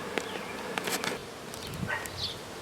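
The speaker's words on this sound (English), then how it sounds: "A lot of bees out, but they found a new entrance here" Honey bees buzz around a swarm trap outdoors, a steady hum with individual bees zipping loudly past close by at irregular moments.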